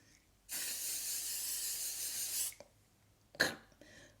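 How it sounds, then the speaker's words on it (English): L'Oreal 3-second setting mist sprayed onto a face, one long steady close hiss of about two seconds, followed by a brief sharper puff and faint rustling. "I'm gonna spray my face down. So I'm gonna use this L'Oreal 3-second setting mist."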